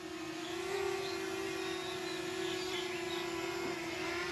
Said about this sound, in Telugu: డ్రోన్ అయితే డౌన్కి అయితే దింపేద్దాము.